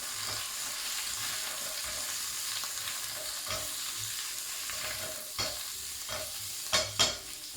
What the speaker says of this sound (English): I'll just give the onions a stir